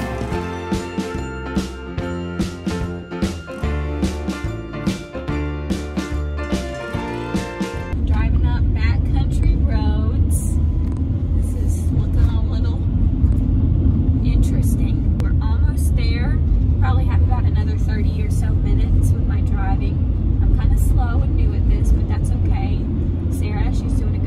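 A car driving on a road before dawn, heard as a steady, continuous drone of engine and road noise that grows fuller partway through.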